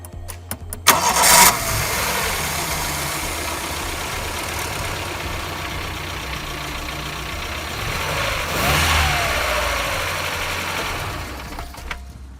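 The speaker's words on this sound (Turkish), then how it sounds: "Şimdi birazdan marşa basacağız. Biraz sesini dinleyip" A car engine cranks and starts just after a newly changed air filter, then settles into a steady, fairly loud idle that runs on alone, with a brief rise in revs partway through.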